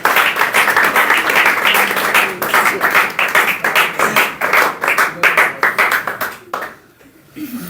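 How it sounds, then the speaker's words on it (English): A group claps loudly and steadily at close range, the applause thinning out and fading near the end. "Clap! Huge clapping!"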